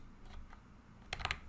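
A short burst of keyboard typing, a few quick clicky keystrokes close by in a quiet room.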